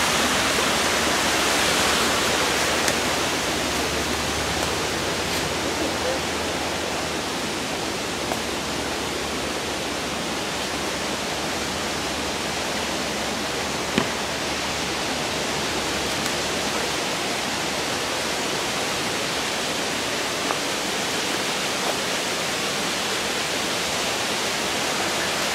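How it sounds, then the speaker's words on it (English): A waterfall roars steadily and loudly throughout, a dense unbroken rush of falling water with occasional faint clicks and no speech. "The waterfall's out there."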